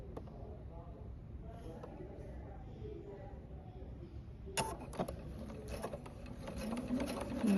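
A sewing machine stitches a quilt star block, starting as a low, steady hum that turns into a louder, faster whir partway through, with quiet talk underneath.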